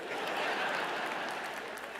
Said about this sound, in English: Oh, you can clap for Brenda, it's up to you.